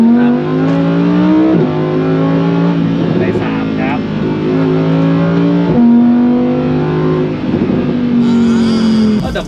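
A Lamborghini engine revs hard as its dual-clutch gearbox shifts down, several distinct pitch jumps stepping the steady roar, heard from inside the car with someone talking over it.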